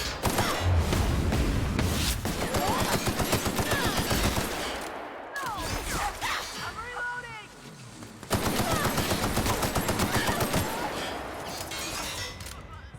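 Rapid, loud gunfire in The Outer Worlds game, dense bursts of shots firing almost continuously with a short lull midway before the barrage resumes, with voices talking over parts of it.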